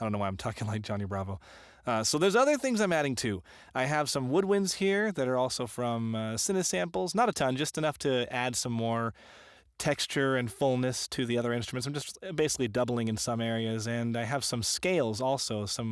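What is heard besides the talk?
No everyday noises stand out.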